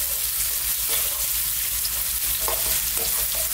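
Chunky-cut garlic and ginger fry hard in oil over high heat, a dense, loud, close sizzle with occasional stirring clicks throughout, no one speaking.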